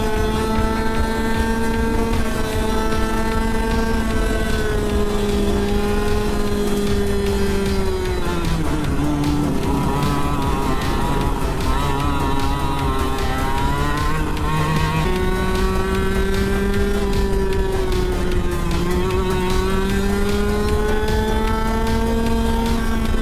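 A two-stroke race vehicle driving on a track, its engine buzzing loud and close throughout, pitch dipping and climbing as it slows for bends and accelerates again.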